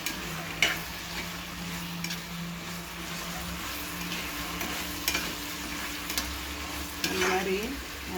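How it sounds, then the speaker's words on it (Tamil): Ingredients for mango leaf and lemon biryani sautéing in a pan, with a steady low sizzle and occasional scraping stir strokes throughout, fairly close and moderately loud, no talking. "இந்த மாதிரி நல்லா வதக்கிக்கோங்க."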